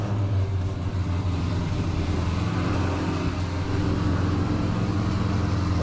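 A Dodge Challenger engine with CORSA LT headers and a CORSA Sports catback exhaust holds a deep steady rumble, loud and close, with no one talking over it.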